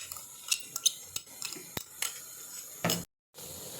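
A spoon stirs sarson ka saag with ginger-chili paste in a pot, giving scattered close scrapes and clinks over a soft low sizzle, then a brief moment of silence.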